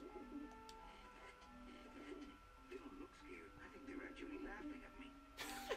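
Pigeons in the video game Grim Fandango coo softly in a repeating murmur, faint and under game voices that speak throughout, ending with a brief burst of noise.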